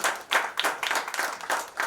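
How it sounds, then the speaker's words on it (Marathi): A crowd applauds at a film poster launch event in Bandra, a dense burst of hand clapping with uneven swells lasting the full two seconds, close and fairly loud with no talk over it. "जोरदार टाळ्या शांतीजींसाठी."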